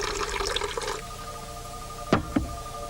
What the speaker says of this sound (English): Fill the bowl up, dear, so you've got one bowl of hot water and one of cold.